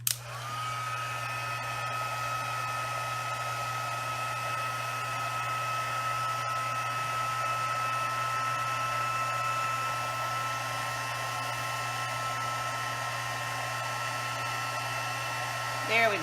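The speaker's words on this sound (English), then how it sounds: "Okay, so I've got my Stampin' Up! Heat tool." A Stampin' Up! heat tool hums and blows continuously and fairly loudly for about sixteen seconds, a steady drone with a low hum underneath, while heat-setting embossing on a handmade card.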